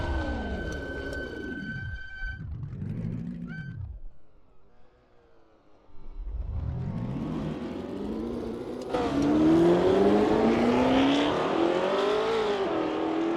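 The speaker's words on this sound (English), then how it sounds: "As the sun beats down and the engines roar" Racing cars in Assetto Corsa at the 1960s Longford circuit, engines roaring past in loud Doppler sweeps, then a near engine revving and climbing steadily through gears, no voices.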